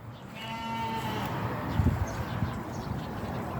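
Sheep bleat close by among livestock, several overlapping calls over a continuous farmyard murmur, with one louder bleat standing out near the middle.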